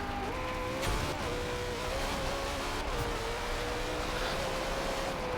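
A race car in Forza Horizon 2 revs steadily and shifts up through the gears during a race, its engine tone stepping up and holding at a loud, continuous drone with no talking.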